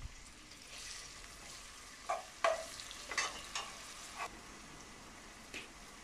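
Onions, garlic ginger paste, bay leaves, cinnamon sticks and cardamom fry in oil, a faint low sizzle broken by several short scraping and clinking stirs.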